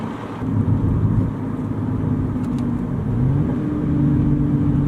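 A BMW E90 with an exhaust cutout revs loudly and steadily, a deep continuous engine roar rising slightly in pitch partway through, with no talk over it.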